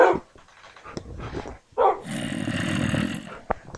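A dog barks a few times nearby, with short sharp yelps followed by a longer noisy stretch, mixed with some background sound including Minecraft game audio.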